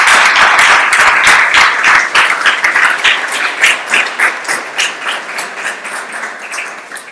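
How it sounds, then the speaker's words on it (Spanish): An audience applauds a presenter at an open-government session in Buenos Aires, with many hands clapping densely and loudly before the sound gradually thins and softens over several seconds. "le damos un aplauso también a Matías por su presentación"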